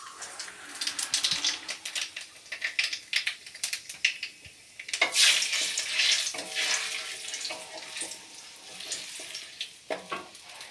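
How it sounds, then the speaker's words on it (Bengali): Black cumin seeds tempering in hot oil in a wok, with a steady crackling sizzle and sharp popping bursts, louder in the middle, plus stirring clatter. "কালো জিরে ফোড়ন দেবো।"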